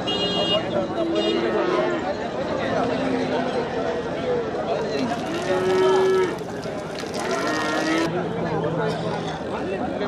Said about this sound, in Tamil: மாடு கண்ணுக்குட்டி